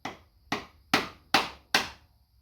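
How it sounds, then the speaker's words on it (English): Wood chisel being struck while fitting a custom oil catch can for a 1966 Dodge Dart: five sharp, evenly spaced knocks, each decaying quickly, close and fairly crisp against a quiet background. "Oh, so now you get a chisel. A wood chisel."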